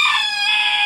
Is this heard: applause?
no